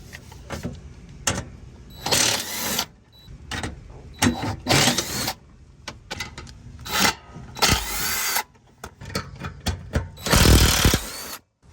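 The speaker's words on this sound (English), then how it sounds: "I've got a 5/16 to remove these bolts. There's 4 bolts holding this one on." Ratchet and socket working 5/16 bolts loose from an underbody protector on a Ford Expedition, coming in repeated loud bursts of ratcheting and rasping metal close by, with brief pauses between them.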